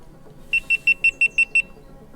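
A GoPro camera sounds seven short, evenly spaced high-pitched beeps in quick succession, close and clear over faint background noise on a windy coast.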